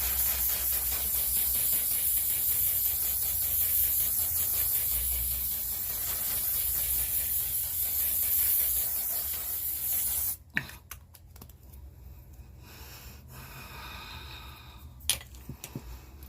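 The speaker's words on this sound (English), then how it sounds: "Oh, setting spray." A long, continuous hissing of makeup setting spray close by for about ten seconds, then it stops, leaving quiet rustling and a couple of soft clicks.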